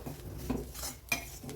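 Spice paste for egg kuzhambu roasting in oil in a pan on low heat, a few soft scrapes and clinks of a spoon against the pan with a faint sizzle, quiet and close.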